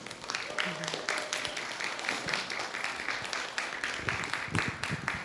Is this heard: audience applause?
yes